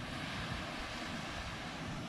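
Small, calm waves of the Pacific Ocean wash steadily in a warm, clear-water setting, a continuous soft surf roar with some wind rumble, no talk.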